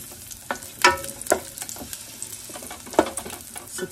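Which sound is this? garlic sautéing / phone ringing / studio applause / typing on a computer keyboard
garlic sautéing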